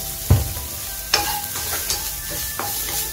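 Chicken stir-frying with black pepper and salt in a hot pan: a constant sizzle with three distinct scraping stirs of a spatula, close up and with no speech.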